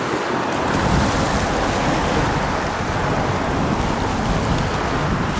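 Waves wash onto a beach at full tide in a continuous, broad roar of surf mixed with buffeting wind, loud and close, with no voices.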